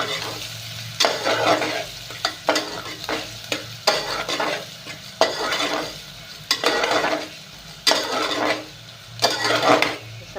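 Onion frying in a pan while being stirred, with repeated loud bursts of scraping and sizzling in an uneven rhythm, close and clear, with short quieter gaps between stirs.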